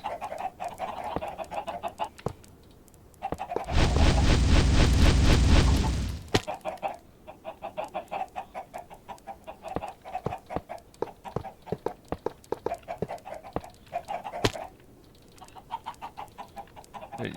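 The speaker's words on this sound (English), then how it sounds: "These chickens are here going to be forever" Video game chickens cluck in repeated short, close calls, interrupted partway by a loud sustained roaring burst like fire or an explosion, then the clucking resumes with sharp clicks.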